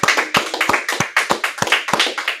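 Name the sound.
clapping hands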